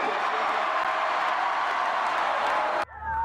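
A large crowd of Florida Gators fans roars and cheers in the Swamp stadium, a dense, steady wall of noise that cuts off abruptly near the end.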